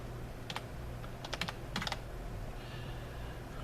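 Someone types a single word on a computer keyboard in a short run of quiet key clicks, a few isolated taps followed by a quick cluster, then stillness over faint room hiss.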